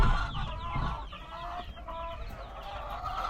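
White chickens cluck continuously amid a busy, noisy farmyard background, with a rooster call mixed in; steady and moderately loud.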